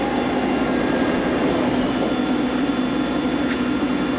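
A Romi CNC/manual flat bed geared-head lathe with a 30 horsepower spindle runs at 225 RPM in its low range, producing a steady, even mechanical hum with a constant tonal whine and no talk.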